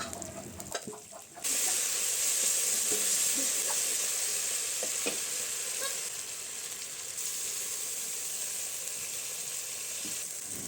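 Onion, green chili, salt and ginger-garlic paste frying in oil in a pan, a steady loud sizzle with occasional scraping stirs of a spoon, close up and without talk.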